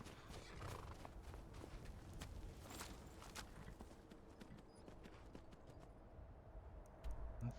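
Hooves of the horse Shadowmere clip-clop along at a walking pace in the video game Skyrim, a quiet, steady run of hoofbeats with a brief louder thump near the end and no talking.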